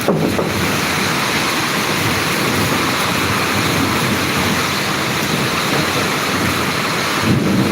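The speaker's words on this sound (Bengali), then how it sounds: "অনেকদিন পর বৃষ্টি হচ্ছে" Heavy rain in Dhaka lashes down under strong gusting wind, a dense, steady roar of downpour and wind buffeting the microphone that holds at a loud level throughout, with no voices.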